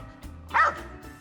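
An excited squirrel-hunting dog gives a single sharp bark outdoors, moderately close, over a low steady background hum.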